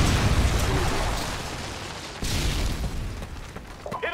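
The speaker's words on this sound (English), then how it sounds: "Predator missile inbound." A predator missile explosion in the video game Modern Warfare 2 2009 lands as a broad, rumbling boom, followed by a second burst halfway through amid noisy game action.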